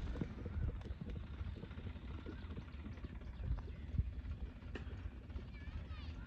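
The horse Raja is ridden at a steady running gait, with faint rhythmic hoofbeats blended into wind noise and someone talking over them outdoors.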